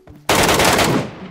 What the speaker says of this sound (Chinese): 黑市又来枪声了